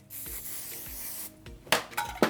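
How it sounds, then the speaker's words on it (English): A long hiss of hairspray at close range, followed by a few short, sharper spray bursts near the end. "we're gonna spray off again a little bit with some texture spray and hairspray"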